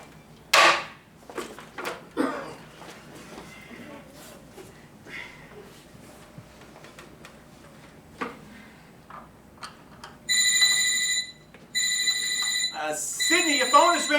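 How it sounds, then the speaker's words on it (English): After stretches of conversation and household clatter, a mobile phone rings with loud, bright electronic ring bursts repeating in quick pulses over the last few seconds. "your phone is ringing"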